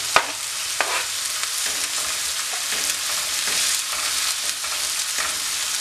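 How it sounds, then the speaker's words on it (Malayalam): Chopped onions and green chillies sauté in a hot pan for a Kerala-style ridge gourd stir-fry. A loud, continuous sizzle fills the sound, and sharp scrapes and clinks of stirring break through it now and then. No one speaks. "നമ്മളിവിടെ കട്ട് ചെയ്ത് വെച്ചിരിക്കുന്ന സവോള ചേർത്ത് കൊടുക്കുക. സവോളയൊന്ന് വഴറ്റിയെടുക്കണം."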